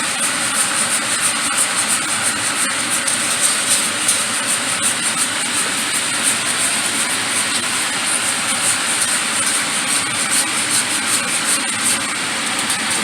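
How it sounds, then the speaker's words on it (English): A whisk beats eggs into a mac and cheese sauce in a pot, making a loud, continuous, rapid scraping and swishing with a fast, even rhythm close up. "So we're just gonna continue to whisk."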